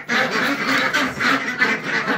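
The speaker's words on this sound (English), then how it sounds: "All right, duck." A barn-kept duck quacks loudly and repeatedly up close, a steady run of harsh, nasal calls with no talking.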